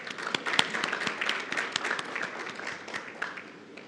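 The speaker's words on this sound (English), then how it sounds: "give a round of applause to our adjudication panel members" An audience at a public sector innovation awards ceremony claps for the adjudication panel. The applause is dense and sustained, with sharp individual claps standing out, and it eases off slightly toward the end.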